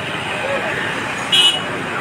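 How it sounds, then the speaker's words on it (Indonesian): Gridlocked city traffic on Jalan Jenderal Sudirman, heading from the Merah Putih bridge toward Ambon, as a steady low roadway rumble with one short car-horn toot midway, under a talking reporter. "kondisi pantauan lalu lintas macet total ya, dari arah Jembatan Merah Putih menuju Kota Ambon"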